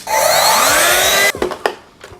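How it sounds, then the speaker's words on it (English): A steady, loud blowing whir from a hair dryer drying wig lace glue runs for over a second, then cuts off, leaving a few clicks and soft knocks. "and then hit it with the dryer"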